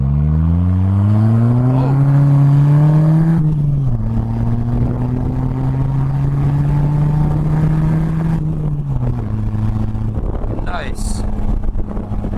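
A Polaris Slingshot three-wheeler drives a very twisty road, its engine droning steadily and loud with pitch rising and dipping through shifts and corners, wind buffeting the microphone, and a driver briefly speaking over it.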